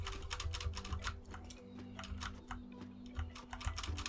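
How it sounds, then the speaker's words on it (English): Loud computer keyboard being typed on during gameplay, a quick uneven clatter of keystrokes in bursts, close and fairly faint overall, with no talk. "Sorry if my keyboard is loud, by the way."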